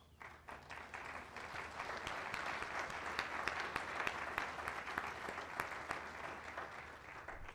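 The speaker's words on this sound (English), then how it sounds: "I'll ask those people who are on the committee now to please stand up for a round of applause." A concert audience applauds steadily for the committee members at a Hanukkah concert, a dense wash of many hands clapping that swells slightly and holds for several seconds, with a faint voice underneath.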